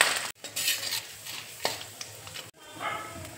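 Chana dal and urad dal frying in hot oil in a wok, heard as scraping and clinking of a spoon stirring against the metal pan with a faint sizzle, in short irregular bursts.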